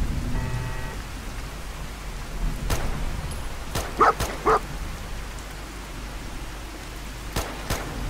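A dog in Fallout 4 gives a few short barks in a quick pair, mid-distance, over a steady rain-like hiss, with scattered sharp clicks around them.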